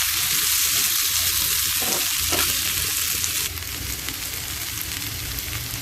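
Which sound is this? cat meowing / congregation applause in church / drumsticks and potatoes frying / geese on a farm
drumsticks and potatoes frying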